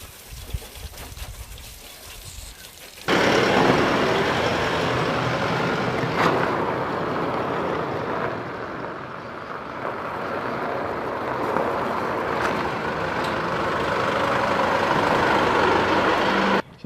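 A four-wheel-drive vehicle on a test drive after a transfer case fluid change: steady engine and road roar heard from inside the cab, rising abruptly after a few seconds of quiet and holding fairly loud and even to the end.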